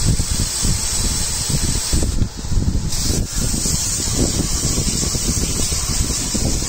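Water sprayed onto a Ford 3.5 EcoBoost engine to flush coolant around the starter, a loud continuous hissing spray that holds steady throughout with a brief dip near the middle.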